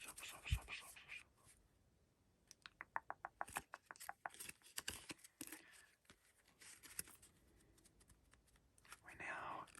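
Close, quiet riffle-shuffle of a solitaire deck of playing cards, with a rapid burst of crisp card flicks followed by scattered taps and shuffling handling noises, recorded softly in an intimate ASMR setting.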